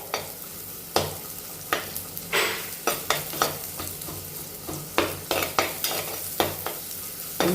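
Onion and garlic frying in oil for South Indian sambar, with a steady close sizzle broken by repeated sharp spatula scrapes and clacks against the pan in an irregular stirring rhythm.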